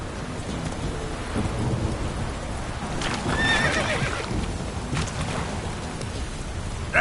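Hoofbeats of a galloping horse in The Witcher video game, mixed with a whinny and a steady rain-and-thunder backdrop, forming a dense, continuous outdoor storm scene.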